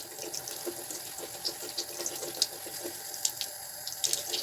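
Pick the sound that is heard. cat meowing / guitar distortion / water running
water running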